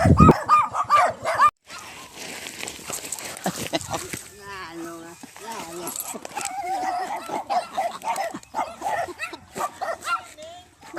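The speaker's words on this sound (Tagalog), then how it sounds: "sinalubong kami ng dalawang kambing at mga aso" Dogs bark and yip in short bursts, mixed with some whimpering, while people talk nearby over outdoor background noise.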